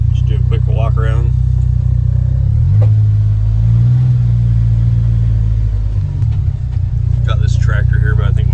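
2025 CF Moto 1000 Highlander UTV engine rumbling loud and close as the vehicle creeps in, with a low steady drone that swells briefly mid-clip while someone talks over it.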